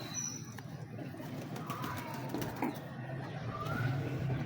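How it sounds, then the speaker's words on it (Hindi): Pigeons coo softly and intermittently in a quiet space. The low calls sit faintly under a steady background hum. "बड़े अच्छे कबूतर हैं"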